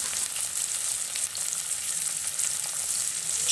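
Chillies and turmeric powder sizzle in hot oil in a pan, a loud, continuous crackling hiss that stays steady from start to finish with no voices.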